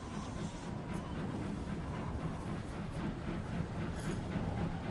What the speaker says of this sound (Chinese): 火车缓缓通过鸭绿江桥，在暮色中向着朝鲜的崇山峻岭驶去。